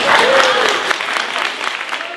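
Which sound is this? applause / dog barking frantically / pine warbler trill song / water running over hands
applause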